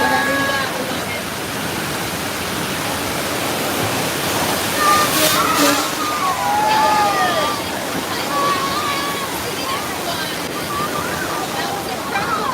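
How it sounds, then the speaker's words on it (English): A heavy rush of water is dumped onto a film set, a loud continuous roaring wash like a waterfall that swells midway, with voices and shouts mixed in beneath the torrent. "Cue the water. Yeah, just send all the water, guys."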